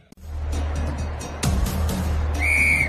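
A referee's shrill whistle blast sounds near the end of play in a ball match, over steady background rumble and a few sharp knocks.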